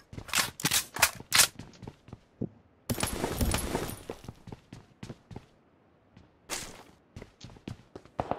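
Automatic gunfire in the mobile game PUBG Mobile: rapid bursts of sharp shots, a dense rattling volley in the middle, then scattered single cracks and short bursts, loud and close.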